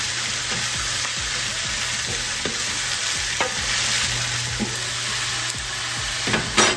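Vegetables sizzling in a lidded pan on the stove, a steady close crackling hiss with occasional small pops and stirring clicks, no talk.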